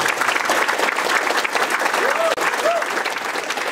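A crowd claps steadily in sustained, dense applause, loud and continuous.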